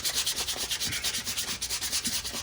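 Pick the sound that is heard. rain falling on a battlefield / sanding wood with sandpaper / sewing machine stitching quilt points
sanding wood with sandpaper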